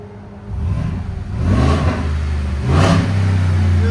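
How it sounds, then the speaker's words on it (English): A 2021 Ford F-250 with a 6.2L V8 revving with its exhaust valves open, a deep rumbling idle rising into two loud, throaty rev swells, close by and without talk. "Now we're gonna do valves open."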